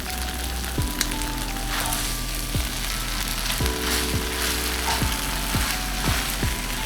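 Salmon and soba noodle stir fry sizzling steadily in a hot pan, with a continuous frying hiss and several sharp clinks and scrapes of a utensil tossing the food, close up with no talk.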